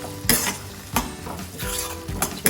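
Ridge gourd and prawn curry cooking in a pan, with a spoon scraping and stirring in several distinct strokes over a steady soft sizzle.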